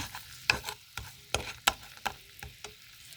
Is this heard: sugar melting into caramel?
yes